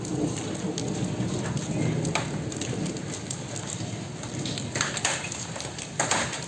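Heavy hail pours down during a thunderstorm in Jamshedpur, a dense continuous clatter of ice hitting surfaces, with a few sharper louder impacts standing out near the end and no talking.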